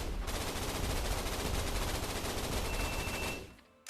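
A submachine gun fires in a continuous rapid burst in the video game Gun Raiders, loud and dense for over three seconds before cutting off and trailing away, with a faint final click; no talking over the shots.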